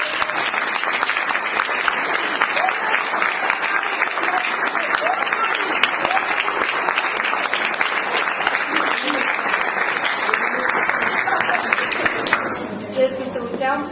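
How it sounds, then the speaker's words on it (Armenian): A crowd of parents and guests at a children's event applauding, dense continuous clapping for about twelve seconds, close and full, then tapering off to a few scattered claps at the end. "Մեկ անգամ ծափարենք մեզ"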